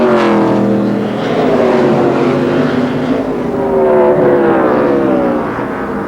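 Race cars lapping an oval track at a 2002 Busch Series race in Madison, a loud sustained engine roar rising and falling in pitch as the cars pass close by, with no talk.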